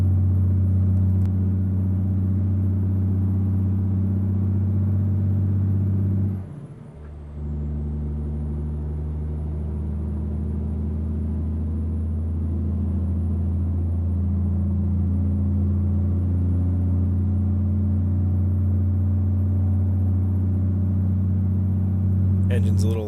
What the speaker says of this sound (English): Engine's a little loud up here.